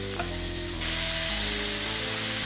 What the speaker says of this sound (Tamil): இப்போ அவிச்சு வச்சிருக்கிற லிவரை போடுறேன்.